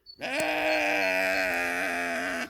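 A stray ram among a sheep flock gives one long, loud, wavering bleat, close and sustained for about two seconds, with no talk over it.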